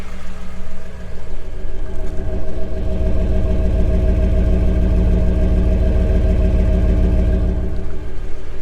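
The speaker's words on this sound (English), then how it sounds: "You hear it a little bit of clatter. And let's listen to the exhaust." A cammed 8.1-litre big-block Chevy V8 idles with a deep, steady, loping rumble, slight clatter and exhaust burble, loud and close, holding even throughout with no talking.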